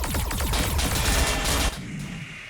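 Gunfire rattles out in Warhammer 40,000: Battlesector as T'au units open fire, a dense rapid volley of shots lasting over a second before cutting to quieter lingering battle noise.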